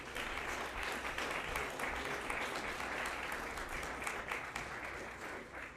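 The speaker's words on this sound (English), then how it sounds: "So join me in a round of applause." An audience applauds at a university board of trustees dinner, a dense, sustained wash of many hands clapping that holds steady for several seconds.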